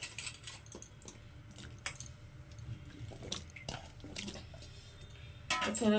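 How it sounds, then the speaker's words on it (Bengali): Pieces of banana stem (thor) drop into water warming in a wok, making soft splashes and wet plops with scattered clinks, ending in a louder rush of water. "তা থোড়গুলোকে আমি এটার মধ্যে দিয়ে দিলাম জলের মধ্যে"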